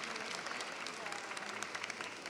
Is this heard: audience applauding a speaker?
yes